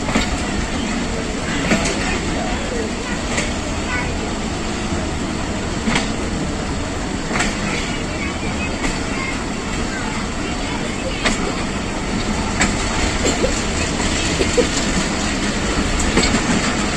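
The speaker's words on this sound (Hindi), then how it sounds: "टेक्सला से रवाना रावलपिंडी पैसेंजर।" The Rawalpindi Passenger of Pakistan Railways, departing Taxila, rumbles steadily along the rails with a continuous loud roar and periodic clicks of wheels over rail joints, heard from close by.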